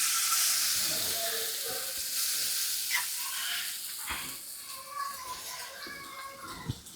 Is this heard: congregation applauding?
no